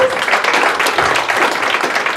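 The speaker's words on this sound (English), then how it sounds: "I'd like to invite you to for a round of applause for all our presenters" An audience claps loudly and steadily at the end of a session of presentations, a dense patter of many hands continuing throughout.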